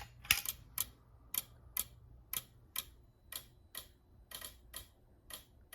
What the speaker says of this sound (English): You can hear the DSM sync module just clicking away here.